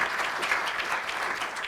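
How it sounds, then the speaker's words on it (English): An audience applauds a public health task force team at a Jefferson County event, a dense, steady round of clapping filling the room without pause. "give this team a round of applause"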